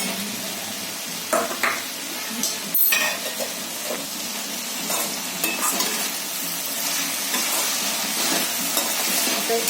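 Ginger garlic paste fries in a pan with a crackling sizzle, broken by repeated scraping stirs and a few sharp clinks of a spoon against the metal.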